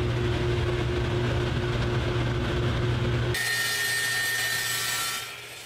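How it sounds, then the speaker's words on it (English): A miter saw whines loudly through maple plywood for a few seconds, then the cut finishes and the motor spins down and fades. "cut it down to their final length on the miter saw"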